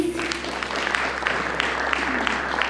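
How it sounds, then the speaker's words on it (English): Applause from the audience at a Botswana supply chain summit session on women and youth in trade, moderate and fairly steady clapping with a low hum underneath and a brief voice at the start. "A round of applause"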